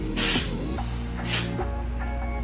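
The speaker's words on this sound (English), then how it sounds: "what we're gonna do is we're gonna add some texture spray" Orbe Dry Texture Spray is sprayed onto hair in two short hissing aerosol bursts, close and loud.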